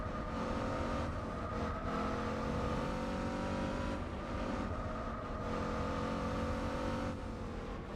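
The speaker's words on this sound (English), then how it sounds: "I do like the sound of the Boxer engine." A boxer-engine car in Gran Turismo 4 drives at steady high revs, a continuous loud engine drone with slight pitch shifts and no talking.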